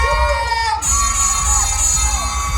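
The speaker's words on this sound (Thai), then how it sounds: "ขอเสียงดังให้กับแม็กซ์เลย" A crowd at a series launch event at a studio cheers and shouts loudly, with high excited voices and whoops layered over a dense roar of noise.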